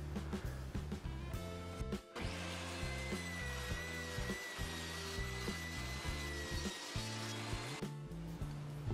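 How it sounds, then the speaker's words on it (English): A wood piece for cross-cut sled runners being sawn down the center, a loud continuous sawing drone with rhythmic strokes and brief pauses, close and alone. "I'm going to split this right down the center there where you see my mark"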